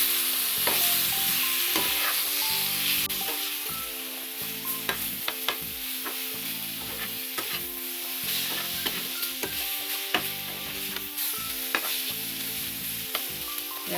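Vegetables, raw banana slices with chilli powder, fry in a pan with a soft steady sizzle, punctuated by frequent spatula clicks and stirring taps, close and moderately quiet, no talk.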